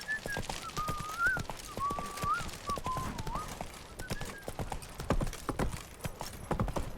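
Hooves of Roach, a horse in the video game The Witcher 3: Wild Hunt, clip-clop in a steady rapid rhythm under a wavering whistle-like tone, with a constant bed of game ambience and no clear speech.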